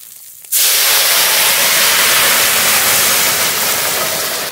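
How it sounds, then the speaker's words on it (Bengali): Curry poured into hot spice tempering set for a dumur (fig) and small puti-fish dish erupts after a quiet half-second into a loud, steady sizzle that holds, barely easing, for about four seconds. "ফোড়ন হয়ে গেছে, এবার তরকারি ঢেলে দেব।"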